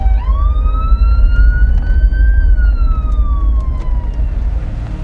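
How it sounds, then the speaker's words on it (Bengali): An ambulance siren wails loud and close, one long rising and falling tone held over a low vehicle rumble, easing off toward the end. "সাইরেন বাজাতে বাজাতে অ্যাম্বুলেন্স ছুটে চলল"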